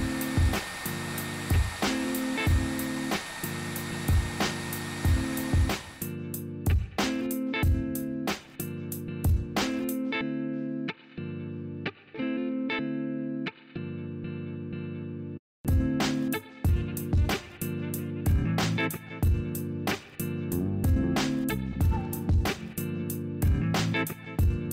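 A hair dryer or heat gun blows in a steady whir while heating a OnePlus 7T skin, cutting off and restarting, with a stretch of quieter sound in the middle; no one speaks.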